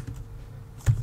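A short burst of keyboard typing as a terminal command is entered on a Linux Mint computer, a quick cluster of close, fairly soft key taps near the end after quiet.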